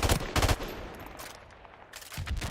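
M16 burst fire in Call of Duty: Modern Warfare Remastered, two quick loud bursts of shots separated by a short lull of quieter game ambience.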